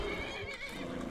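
A horse in the video game Skyrim neighs loudly and continuously, a close, drawn-out whinny with hoof clatter underneath during a fight with a bear.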